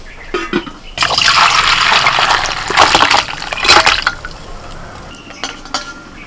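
Water poured into a cooking pot of mutton paya, a loud gushing splash that starts abruptly, runs for a few seconds with swells, then fades to drips and light clinks.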